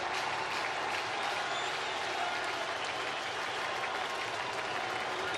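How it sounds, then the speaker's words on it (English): Steady, dense roar of a baseball stadium crowd cheering during an Orioles vs Cardinals game, a continuous wash of voices and applause at even loudness throughout, with no single voice standing out. "This crowd ready to explode."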